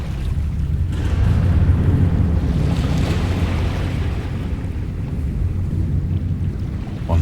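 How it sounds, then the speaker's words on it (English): Water waves washing in a steady, deep surging wash under a rushing, wind-like roar in the video game Dagon, loud and continuous with no voices. "Across the chasm, the wavelets washed the base of the Cyclopean monolith"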